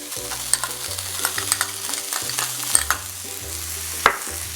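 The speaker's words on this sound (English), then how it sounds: "So saute this for about 30 seconds." Green capsicum stir-fried in a wok, a steady close sizzle broken by repeated scraping strokes of a spatula and a few sharper clinks, with no voices.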